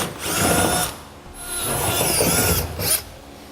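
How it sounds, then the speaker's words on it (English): A power drill with a half-inch bit grinds through a pickup truck bed in three bursts while installing a gooseneck hitch, whining and rasping up close, with short pauses between. "we're going to finish up our holes with a 1/2 inch drill bit from inside the bed"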